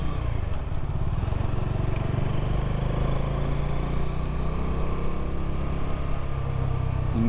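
A motorcycle rides along a road in Navi Mumbai toward Belapur station, its engine rumbling steadily beneath continuous rushing wind and road noise for the whole stretch, with no voices.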